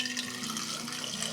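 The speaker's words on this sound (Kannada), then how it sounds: "3/4 ಭಾಗಷ್ಟು ನೀರು ಹಾಕ್ಕೊಂಡು" Water pouring steadily into a pressure cooker, a continuous splashing stream heard up close and alone with no voices.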